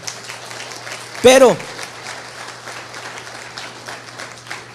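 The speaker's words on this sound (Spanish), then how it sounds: "Dele un aplauso al Señor, amén." Church congregation applauding during a worship service, a steady, diffuse patter of clapping spread through the room, with a man's brief exclamation rising over it.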